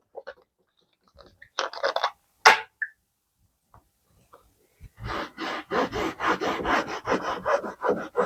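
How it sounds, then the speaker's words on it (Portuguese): A cloth rubbing excess paint off a sketch on canvas, heard as close dry scrubbing strokes, a few isolated swipes and then a quick run of rhythmic rubs. "com o próprio pano, você tira o excesso"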